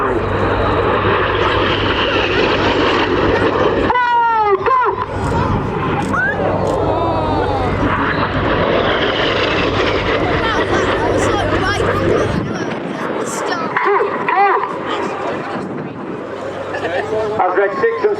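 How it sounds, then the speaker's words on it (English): Red Arrows RAF aerobatic jets, the Synchro pair, roar past at the RAF Cosford Airshow 2022. A loud, continuous jet engine roar swells and sweeps overhead, with an amplified commentator talking throughout and crowd murmur beneath. "As the Synchro pair head towards each other, there'll be a series of crosses before they pull up into a half horizontal"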